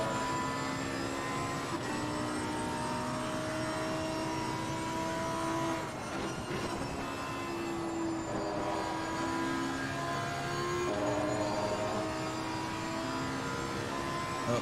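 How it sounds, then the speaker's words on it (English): Lamborghini race car engine in a racing simulator at Silverstone, a sustained high-revving whine that rises and falls with gear shifts, steady and loud with no talk. "I love the Lambo, dude. It's such a good sounding car."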